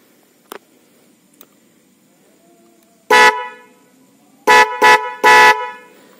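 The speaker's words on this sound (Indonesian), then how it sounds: "Saya akan mencoba bagaimana bunyinya." A pair of relay-driven snail horns for motorcycles and cars blasts loudly, first one long honk and then three short bursts in quick succession, with near silence between.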